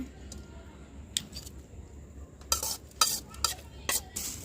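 Gongura chutney is pounded in a stone mortar, giving quiet scattered knocks at first and then a run of sharper, louder thumps and grinding strikes, close by.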